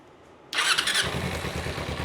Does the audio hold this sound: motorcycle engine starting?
yes